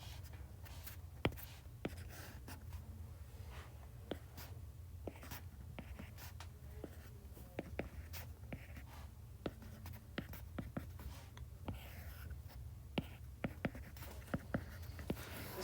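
Chalk or marker tapping and scratching steadily on a classroom board as a matrix for Gaussian elimination is written out, a long run of close, quiet, irregular strokes and taps with no talk over them.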